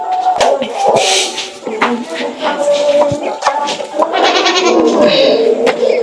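Several goats bleat repeatedly at close range, their sharp, wavering calls overlapping in quick succession amid rustling and knocking from the pen.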